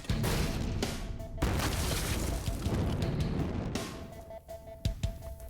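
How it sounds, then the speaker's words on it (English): Pyrotechnic explosions at an outdoor obstacle-course event produce a dense, loud rumbling roar of blasts and crackling, with a sharp thud near the end as the din fades. "As you can see, we're having a great time, and the explosions are awesome."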